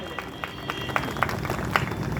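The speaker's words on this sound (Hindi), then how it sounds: "जोरदार तालियां उनके सम्मान में।" Applause at a rally in Tikonia Park, Sultanpur: a crowd claps in a rhythmic, fairly quiet stream of regular claps heard at a distance.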